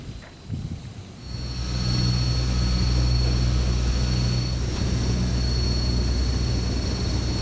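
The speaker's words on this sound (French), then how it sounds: "les avions atterrissent directement dans le sable, au milieu du désert" A military transport plane lands on desert sand in the Sahel, its engines building from a faint start to a loud, steady droning roar that holds with a constant tonal whine.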